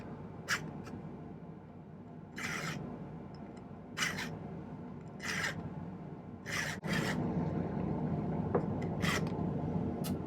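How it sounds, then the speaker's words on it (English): A hand file cuts a diagonal notch into thick square silver wire while making a free-form cocktail ring. Around nine short, close rasping strokes come at irregular intervals with no talking. "if I file a diagonal notch like this"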